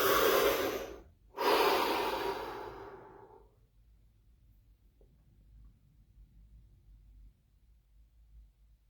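Slow deep breaths during a guided relaxation exercise: two long, loud airy exhalations close to the microphone, separated by a short pause, then quiet room tone.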